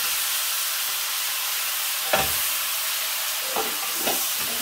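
Tomatoes dropped into hot oil with browned garlic and a little onion, giving a steady broadband sizzle with a few brief stirring clatters near the end, close and moderately loud.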